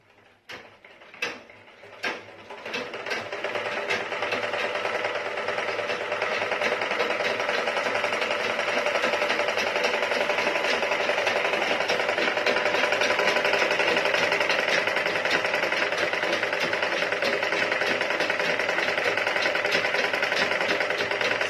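A treadle sewing machine is pedaled, opening with a few separate clacks before settling into a steady, fast mechanical whirring and rattling that runs on evenly, close and fairly loud.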